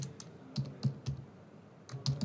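Typing on a computer keyboard while entering an application name: short bursts of crisp key clicks in small clusters, close and fairly quiet, with no talking.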